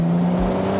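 A Mercedes SL400 rolls over a bumpy road with potholes, its engine and tyre noise holding steady before a single low thump as a wheel hits a hole.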